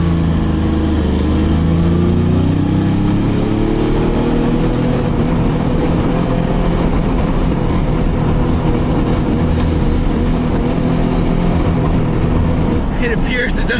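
A Jaguar engine, either a swapped V8 or a stock V12, revs up hard and holds high, its pitch rising then droning loud and close, and it will not go past about 5,000 RPM.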